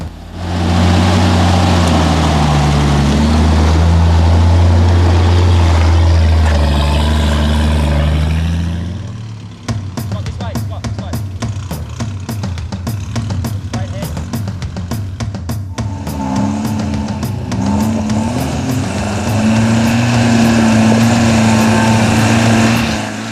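Two 4WD vehicles, a Nissan Patrol and a Toyota Hilux on 32-inch tyres, climb a muddy track, engines revving and labouring loudly up close, with a mid-clip drop to a lighter engine drone before revving again.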